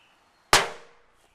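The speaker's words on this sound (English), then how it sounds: "Big firecracker decibel test." A big firecracker explodes in one sudden, loud, sharp bang at close range, with a short ringing tail that fades over about a second in otherwise quiet surroundings.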